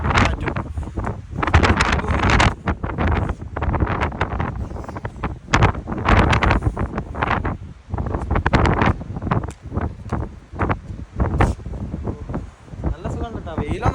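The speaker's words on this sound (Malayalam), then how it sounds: "ഇവിടുത്തെ കാറ്റുകൊണ്ട് നമ്മൾ പറയുന്ന ഒന്നും കേൾക്കുന്നില്ല. സത്യം പറഞ്ഞാൽ ഭയങ്കര കാറ്റാണ്." Strong coastal wind at Sur, Oman, buffets the microphone in loud, gusty bursts that surge and drop throughout, with a constant rushing roar underneath.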